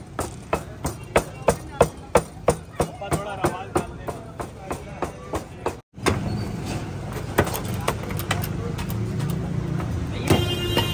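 Minced meat being pounded by hand at a butcher's shop, a steady run of sharp, evenly spaced chopping thuds close by, then a brief dropout and looser, irregular knocks with background street noise and voices.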